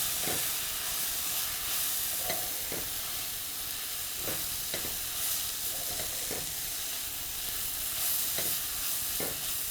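Spices for a Kerala chicken roast sizzle and fry in a pan on lowered heat, a steady hiss broken by the scrape of a spoon stirring every second or two, close and with no talking.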